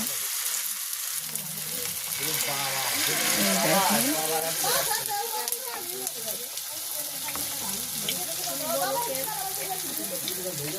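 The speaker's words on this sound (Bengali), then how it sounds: "আমরা এখন ফুলকপির বড়াটা ভাজি করে নেব।" Cauliflower fritters fry in hot oil in a village kitchen, giving a loud, continuous sizzle and crackle with a voice speaking faintly under it.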